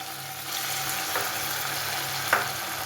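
Bitter gourd and carrot pieces shallow frying in oil for a pickle produce a dense, continuous crackling sizzle with a couple of brief scraping stirs.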